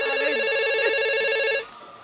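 A telephone rings with a rapid electronic trill, loud and close, then cuts off abruptly, leaving quiet room noise.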